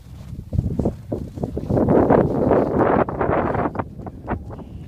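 Gusty wind of six to ten metres per second over a snow field rushes and buffets the microphone, swelling in strong bursts, with faint voices now and then beneath it.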